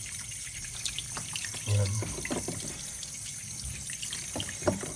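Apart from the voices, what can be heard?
tap water running while washing salted-egg duck eggs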